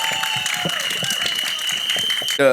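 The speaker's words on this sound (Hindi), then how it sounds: "एक बार जोरदार तालियां" Loud applause and clapping from an audience at a film trailer launch event, a steady burst of claps under a held tone, with a voice speaking over it near the end.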